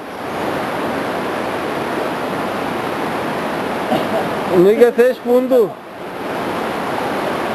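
The Crivadia stream rushes through a gorge with a steady, loud, broadband roar. Someone speaks briefly over the churning water.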